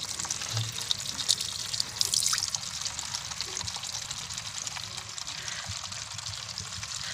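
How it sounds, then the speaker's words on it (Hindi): Water pours steadily into a bottle, a continuous splashing trickle that runs for several seconds with no voices. "इसे फिल कर लेंगे पानी से"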